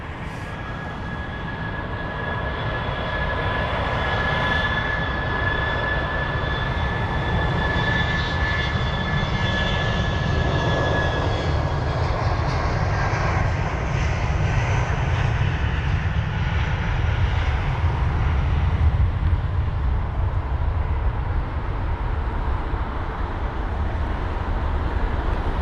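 A Bulgaria Air Airbus A220-300 departing London Heathrow, a loud sustained engine roar with a rumbling low end and a high whine that fades midway, heard from a distance and continuing steadily throughout.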